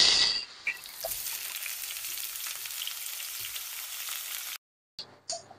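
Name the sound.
chicken pieces frying in hot oil in a pan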